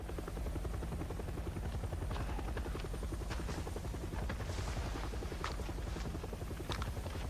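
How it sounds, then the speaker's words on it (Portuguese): A helicopter's rotor thumps steadily and loudly throughout in a horror video game, a constant close whirring drone with no voices over it. "As forças armadas descem do helicóptero"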